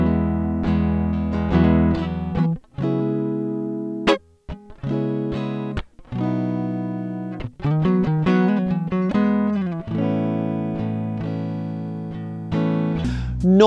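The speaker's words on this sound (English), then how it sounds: "we've recorded a naked, unaffected DI from the guitar straight into my Neve Pre via the DI" A clean, dry electric guitar recorded direct input into a Neve preamp plays a sequence of chords and single notes with short gaps, close and untreated, with no effects or room sound.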